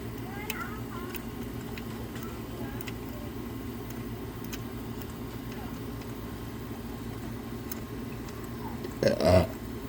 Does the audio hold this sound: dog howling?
no